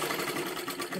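A sewing machine runs continuously, double-stitching layered fabric strips with a dense, even mechanical whir that stays close and steady throughout, with no talking.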